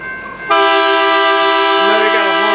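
A Grand Canyon Railway steam locomotive, GCR 4960 at Williams, sounds a loud, close train horn that starts abruptly and holds one steady, rich chord to the end.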